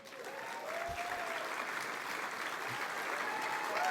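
An audience at a community organization's fall fundraising dinner breaks into sustained applause, a dense wash of clapping that builds and holds throughout, with a few faint voices mixed in.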